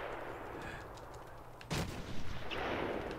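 A sniper shot rings out in the video game Batman: Arkham Asylum, one sharp loud crack followed by a few echoing bursts over a low background hum.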